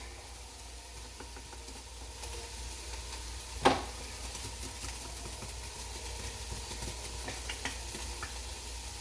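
Brussels sprouts sauté in oil with onions in a pot, a steady low sizzle with scraping stir sounds and one sharper clatter partway through, no voices.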